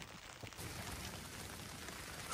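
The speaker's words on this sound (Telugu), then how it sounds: "ఫుల్ వర్షం ఉన్నది, బయట పడుతుంది" Heavy rain pours outside a tent at night, a steady, even hiss of drops on the fabric, fairly faint and with no voices.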